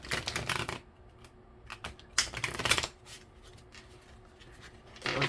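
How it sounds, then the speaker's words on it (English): Deck of tarot cards being shuffled, crisp riffling bursts in short irregular spurts separated by brief quiet gaps, close and fairly soft. "It wasn't a very excellent shuffle"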